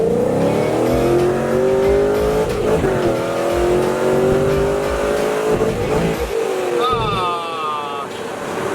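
A Nissan 350Z accelerates hard in first gear with no traction, its engine wailing loudly up through the revs before a brief chirp near the end, close to the car, with people talking over it.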